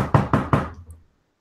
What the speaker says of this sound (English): you hear her knocking on the door. And then you hear her knock get louder.